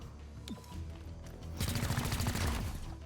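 Gunfire in the XCOM: Chimera Squad game: a single sharp shot early, then a dense rapid burst of automatic fire in the second half, loud and close.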